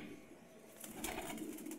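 Faint, soft pigeon cooing comes from a netted pigeon that has gone days without food or water. A low, steady murmur with a slight rise in the second half, heard alone without talk.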